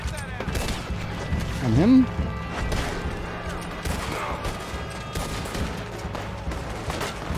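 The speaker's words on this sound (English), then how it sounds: "That should stop him from shooting." Gunfire rattles during a bank robbery in Red Dead Redemption 2, with sharp shots scattered through a busy game soundscape and someone talking over them.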